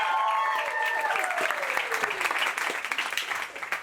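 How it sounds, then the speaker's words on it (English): Audience applause at a stand-up comedy show in a Copenhagen bar, dense clapping throughout, with cheering voices and a whoop rising over it at the start. "Give him a round of applause, guys."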